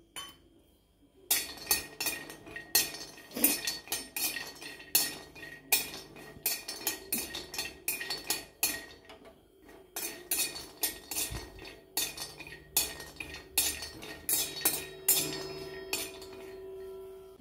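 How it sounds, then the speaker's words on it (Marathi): Cashews and almonds being dry-roasted and stirred in a kadhai, with repeated clinks and scrapes of a metal spoon against the pan in an irregular rhythm, close and fairly quiet, with no talking. "आता आपण त्याच कढईमध्ये काजू भाजून घेणार, बदाम पण भाजून घेणार आहोत."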